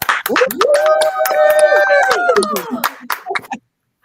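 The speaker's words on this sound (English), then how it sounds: "Ladies, can we give ourselves a round of applause?" A small group of women on a call clap and cheer for themselves, voices whooping and laughing over scattered sharp claps, ending abruptly in silence.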